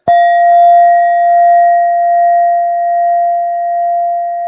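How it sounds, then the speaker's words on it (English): Brass Indian singing bowl with a Buddha in its center struck once, ringing a pure sustained tone with a faint upper partial that hums on steadily, close and alone. "this beautiful brass Indian bowl with a beautiful Buddha in the middle"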